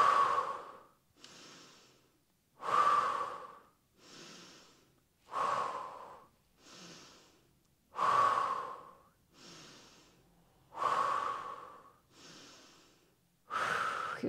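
Slow deep breaths during a guided yoga-style core and leg exercise, each long inhale followed by a softer exhale, repeating steadily about every three seconds, close and clear with no talking.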